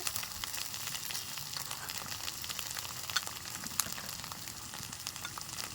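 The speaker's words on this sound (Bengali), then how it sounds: "দিয়ে দিচ্ছি জিরে বাটা কাঁচা লঙ্কা বাটা" Cumin paste and green chili paste fry in oil in a pan for hilsa pulao, giving a soft, even, continuous sizzle with a few faint ticks and no talking.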